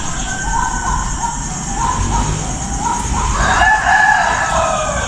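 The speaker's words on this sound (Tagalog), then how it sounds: "Na, tumula na yung manok." A rooster crows over a steady outdoor background hum, the call rising and carrying from a moderate distance, with no talking.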